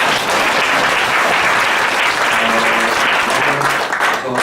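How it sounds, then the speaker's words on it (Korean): A church congregation applauding together during a Sunday worship service, a dense, loud, continuous wash of many hands clapping that fills the room from start to finish. "목사님 박수 한번 하시겠습니다."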